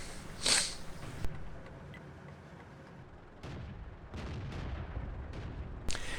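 Artillery fire in World of Tanks, on the Highway map: a loud booming blast opens, followed by several duller impacts and thuds spaced across the next few seconds, ending with another sharp crack.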